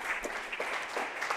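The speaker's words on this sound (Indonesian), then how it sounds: "Silakan tepuk tangan buat 3 perwakilan yang sudah" A short burst of clapping from a group in a university class, steady and moderately loud, with no voices over it.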